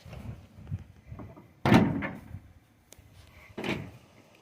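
Someone tries the door of a Ford Fairlane that won't open: two sharp metallic clunks and rattles from the handle and latch, close and fairly loud, with softer fumbling and knocks between them.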